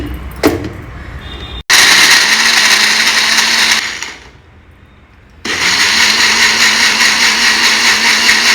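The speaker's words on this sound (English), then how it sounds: "Now we'll blend this all together in our blender jar." An electric blender loudly whirs as it purées a musk melon smoothie with milk and thick fresh cream, running in two long bursts separated by a short pause at a low idle, after a brief knock at the start.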